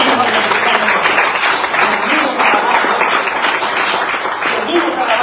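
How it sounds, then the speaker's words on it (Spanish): A church congregation claps together in praise during a Spanish-language service, a steady, loud wash of clapping heard up close and continuing throughout with voices mixed in beneath it. "Démosle palmas al Señor"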